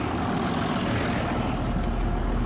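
A 7410 tractor engine idles steadily up close, a continuous low rumble with a constant drone and no variation over a couple of seconds.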